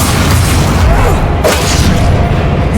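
The Expelliarmus spell is cast in the Hogwarts Legacy video game, a loud booming burst of magic set in thick, continuous game noise.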